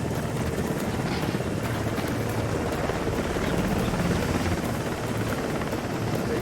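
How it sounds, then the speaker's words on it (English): A helicopter in the video game House of Ashes drones steadily throughout, a loud continuous rotor-and-engine roar with no break. "I'm on a helicopter."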